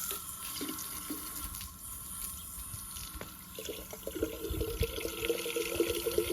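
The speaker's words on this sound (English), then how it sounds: "Okay, I finished putting it in there. Let's rinse it off." A fertilizer container is rinsed under running water from a tap, a soft steady flow with splashing and dripping that grows busier toward the end, no speech.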